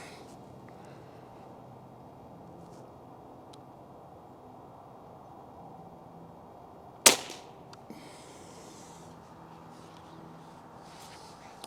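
A single sharp report from a Crosman 362 air rifle cracks out once, loud and close, over a steady low background hiss, followed by a short fading rattle.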